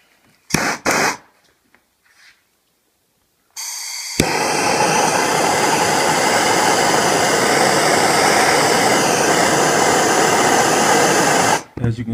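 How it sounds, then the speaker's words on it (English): A handheld blowtorch roars steadily against an ordinary ice cube, a loud continuous hiss lasting several seconds after a few brief knocks and a short pause, then cutting off abruptly. "Let me try my blowtorch."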